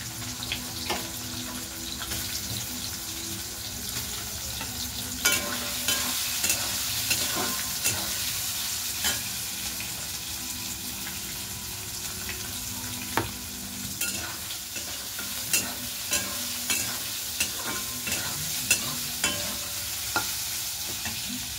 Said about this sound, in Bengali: এবার সোয়াবিনগুলো ভেজে নিচ্ছি।